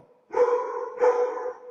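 Two rescued house dogs bark at someone arriving: two close, sharp barks about half a second apart, with no talking.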